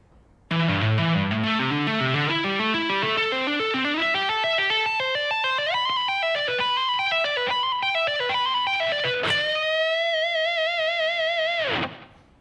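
A distorted electric guitar plays a fast run of tapped notes climbing and falling, ending with a held, vibrato-laden bend that rings out before stopping.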